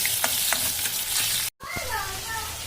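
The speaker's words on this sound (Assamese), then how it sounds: "এয়া মই জিকাখিনি ঢালি দিলোঁ এতিয়া জিকা বিলাহী পিঁয়াজ অকণমান আদা নহৰু দি দিলোঁ" Prawns hit a hot pan with onion, tomato, ginger and garlic, a loud close sizzle and stirring scrapes; a brief cut midway, then the frying hiss continues steadily with no talk.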